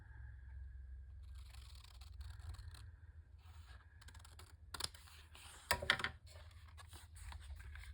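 Quiet, close scissor snips and paper rustling while cutting 12x12 paper for an ephemera holder, with a couple of sharper crisp cuts and handling noises over a low background hum.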